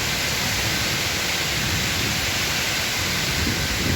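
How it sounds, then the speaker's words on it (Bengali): Heavy rain in a fierce storm pours down steadily as a dense, unbroken hiss at close range, with no voices and no distinct thunderclaps standing out. "ঝড় বৃষ্টি, একদম"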